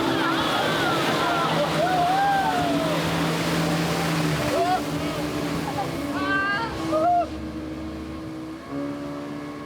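A motorboat travels along a river through white-water rapids in Taman Negara, Malaysia, with a continuous engine rumble and rushing water, while voices shout and chatter over it.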